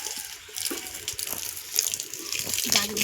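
Water gushing from a hose pipe onto plants in a yard, a steady hiss and splash with dripping spatters, moderately near and fairly quiet, with brief murmurs in the background.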